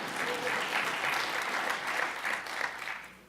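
Audience applause at a Republican presidential candidates' Jewish coalition forum, a loud, dense crowd clapping that swells and pulses steadily before tapering off at the end, with no talk over it.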